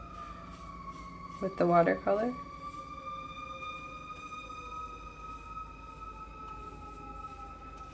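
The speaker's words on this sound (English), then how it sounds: "Sorry about the sirens." Emergency vehicle sirens wail outside, a steady, sustained howl that runs through the whole stretch at moderate distance, with a short burst of indoor speech near the start.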